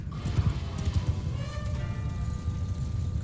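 Horse hooves clip-clopping in Mount & Blade II: Bannerlord, a quick, close run of hoof beats over a rumbling battlefield backdrop with faint tonal hum.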